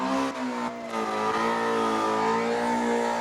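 A car engine revs hard and steadily at high pitch during a burnout contest in New Smyrna, with a brief dip in the middle, sounding close and loud.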